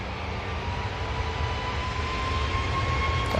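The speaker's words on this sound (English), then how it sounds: "Who's taking off in this 737 MAX 8" A Boeing 737 MAX 8 at Manchester Airport takes off, its steady jet engine roar droning broad and constant in the distance, slowly building in loudness with no break.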